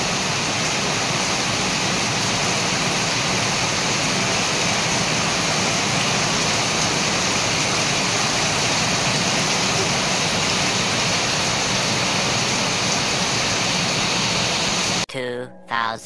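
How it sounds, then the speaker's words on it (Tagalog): Heavy rain pours steadily at a house during a rainy afternoon birthday gathering, a dense, loud, unbroken roar filling the whole stretch before cutting off abruptly near the end. "Kala ko may bagyo yung ulan dito ngayon, oh."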